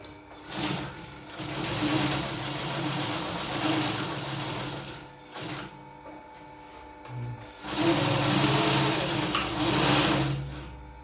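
Pfaff 1245 industrial sewing machine with an enlarged bobbin hook, in good serviced condition, stitching in two steady runs of whirring, rapid mechanical chatter separated by a short pause, close and fairly loud.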